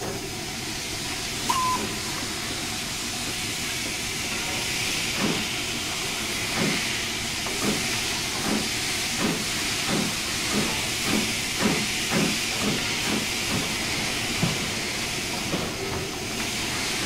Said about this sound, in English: I have to take the pressure out of the steam chest before I unlock the reverser